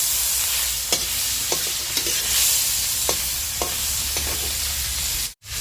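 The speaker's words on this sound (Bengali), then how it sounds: "এখানে আমি শুটকি মাছটা ভেজে নিয়েছি। আর এদিকে আমি তেল দিয়ে পেঁয়াজ, কাঁচা লঙ্কা এগুলো ছড়িয়ে দিয়েছি।" Dried fish, onion and green chili frying in oil in a home kitchen, a steady close sizzle broken by several sharp clicks of a utensil against the pan, with a brief dropout near the end.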